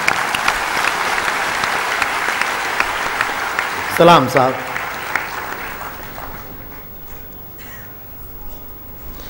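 Audience applause at a Ram Katha religious discourse, clapping in honor of the poet Buddhisen; broad sustained crowd clapping with a brief louder swell partway through, fading down toward the end, with a voice speaking briefly.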